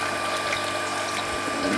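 A small heater in an aquaponics grow bed gives off a steady, fairly noisy whir with a watery, pump-like hiss, continuous and faint throughout.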